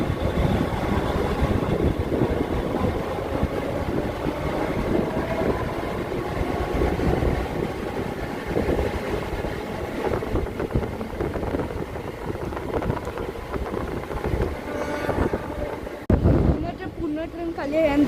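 A Mumbai local train on the Trans Harbour Line pulls out of Rabale station with a continuous rolling rumble and wind rush from inside the carriage, a brief knock near the end, while someone talks.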